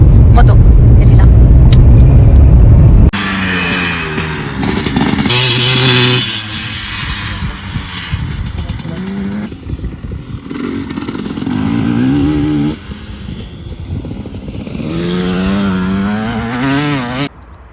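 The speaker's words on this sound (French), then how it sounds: "je vais faire de la moto. Elle est là." A motorcycle engine roars loud and close for the first few seconds, then a voice talks over a lower rumble and clatter that carries on beneath the speech.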